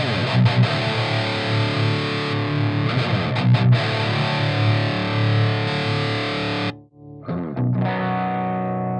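An electric guitar runs through an Audio Assault Blackstar amp plugin on its overdrive channel with reverb, producing thick, sustained distorted chords that ring out steadily, then cut to silence briefly before a fresh strum returns.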